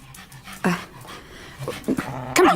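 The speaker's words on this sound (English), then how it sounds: "The dog stands on his hind legs and puts his paws on the poker." A dog in a fireplace room growls and whimpers in short, uneven bursts, the loudest near the end, over a quiet indoor background in a staged drama scene.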